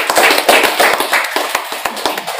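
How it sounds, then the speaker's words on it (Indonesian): Audience applause at a gathering, a short burst of brisk clapping from a small crowd, close and fairly loud, with no talking over it. "Maka tepuk tangan sekali lagi untuk teman-teman kita."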